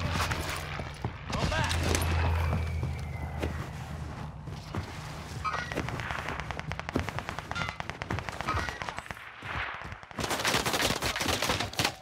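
Gunfire in Call of Duty Warzone: rapid automatic bursts and single shots crack repeatedly, some close and loud, others farther off, while a player talks excitedly over the shooting.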